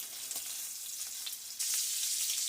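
Bacon strips frying in a pan while breakfast is made, a steady close-up crackle and sizzle with scattered pops, growing louder and fuller toward the end.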